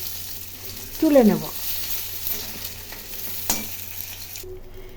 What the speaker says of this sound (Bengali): মাছের মাথা ভাজা হয়ে গেছে